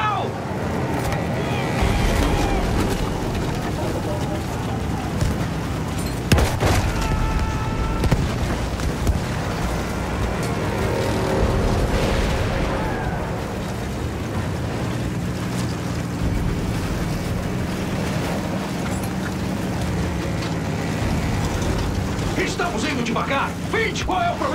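A boat's engine runs in a Battlefield 1 battle scene, a continuous low drone mixed with wind and water wash, with occasional sharp bangs and shouted voices over it.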